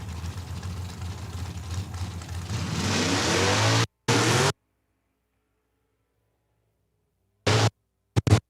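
A rear-engine dragster revving at a drag strip, a loud sustained engine roar building for several seconds, then cutting off abruptly, followed by two short bursts after a long silence.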